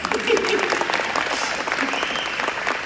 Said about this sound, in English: I think Josh needs a round of applause